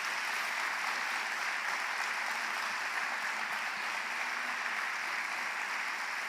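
A church congregation applauds in sustained, dense clapping that stays loud and even throughout, with no speech.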